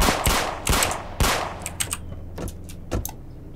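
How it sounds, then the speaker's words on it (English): Gunfire in the video game Emergency Hamburg: three loud, sharp shots in the first second and a half, then a scatter of quieter cracks and clatters trailing off. "They're shooting help me!"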